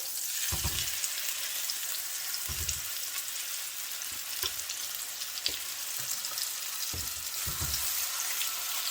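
Stuffed chicken searing in a hot pan with a steady, bright sizzle throughout, broken by occasional soft thumps and clinks from handling the pan, close and continuous.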